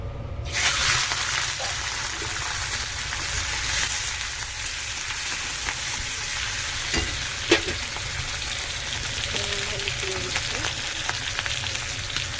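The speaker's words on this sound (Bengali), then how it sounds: "তাই এই চিংড়ি মাছটা ভেজে নিচ্ছি। কড়া গরম হয়ে গেছে, তেল দিয়ে দিয়েছি।" Prawns fry in hot oil in a heated pan, giving a steady, dense sizzle that runs throughout with a few small pops and clinks, close and fairly loud, and no voices.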